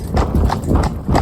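A cob cross horse's hooves clip-clop in a quick, even rhythm, loud and close, a short run of repeated hits over low background rumble.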